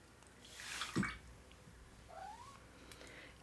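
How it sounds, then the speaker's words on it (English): A pet cat gives a short, quiet meow, followed by a few faint drips and small splashy noises in an otherwise quiet room. "Yes, my kitty friend?"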